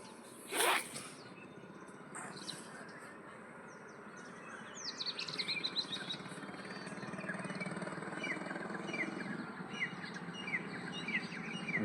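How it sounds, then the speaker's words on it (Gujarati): Faint chirps and twittering of birds in the distance over a steady low engine-like hum, with a brief rustle near the start. "આ બાજુ પંખી બોલે મસ્ત મજાના"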